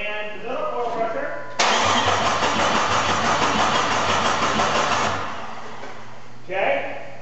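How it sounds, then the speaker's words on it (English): A 2001 Jeep Cherokee engine cranks over with a loud, steady churning that lasts about three and a half seconds without catching. A voice is heard briefly before and after the cranking. "now, I'm gonna just crank the engine over"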